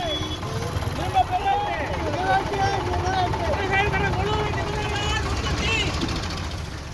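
More than 25 tractors driving in a farmers' protest rally in Thiruvarur, Tamil Nadu: a constant low engine drone underneath, with voices and crowd noise over it for the whole stretch.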